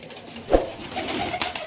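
A brief low pigeon coo sounds close by, with a soft second call near the end over quiet background noise.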